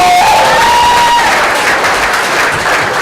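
An audience at an annual meeting claps and cheers for the treasurer's birthday, loud dense applause filling the whole stretch, with a brief whistle-like tone near the start.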